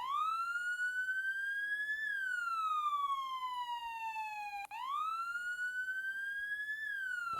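A fire truck siren in the Roblox game wails in long rising and falling sweeps, loud, clean and synthetic, with a brief glitch partway through and no talk over it.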